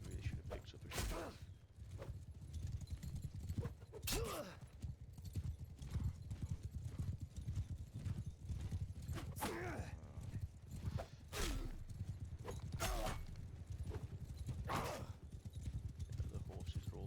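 Horse hooves clip-clop and pound in a Mount & Blade Bannerlord battle, a continuous busy rhythm of many mounts with scattered whinnies and sharp clashing hits, fairly faint and mid-distance, with a voice talking at times.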